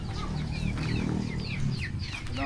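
A chicken clucking near a motorcycle outdoors in the Philippines, repeated short clucks and chirpy calls over a steady low rumble, fairly close and continuous.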